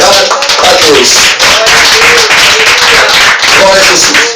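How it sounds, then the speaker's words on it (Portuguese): A church congregation claps hands in praise during a worship service, a steady wash of clapping that runs throughout alongside voices and sung tones. "bater as palmas para Jesus"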